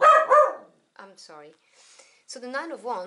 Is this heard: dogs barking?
yes